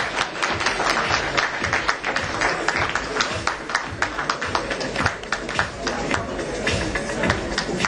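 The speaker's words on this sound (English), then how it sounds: "Can you please give them a huge round of applause?" Audience applause at an education panel discussion, dense steady clapping from a crowd of many hands sustained throughout, fairly loud and close with sharp individual claps standing out.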